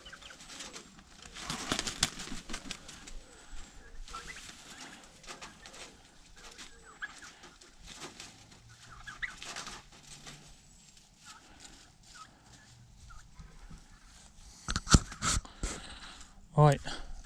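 Turkeys being herded into their pen on a farm give scattered clucks and gobbling calls, near and moderately loud, with a person talking over them throughout.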